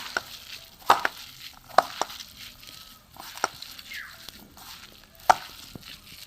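Sojna (drumstick) flower pakora batter with gram flour, salt and chaat masala being mixed by hand, giving soft, sticky squelches and a few sharper taps against the bowl at irregular intervals, close and fairly quiet.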